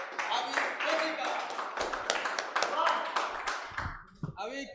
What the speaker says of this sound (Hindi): तो एक बार जोरदार तालियों के साथ स्वागत कीजिए हमारे अभी फौजी का